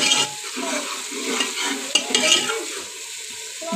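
Onions browning in a pan for aloo bhujia, a steady close sizzle with repeated scraping stirs of a spoon against the pan running throughout, no voices.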